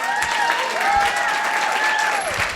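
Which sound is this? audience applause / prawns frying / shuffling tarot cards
audience applause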